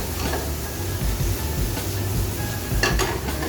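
Onions and fresh baby tomatoes fry in hot oil in a pan, a steady close sizzle with scattered stirring clatter and a couple of brighter spatters near the end, no voices.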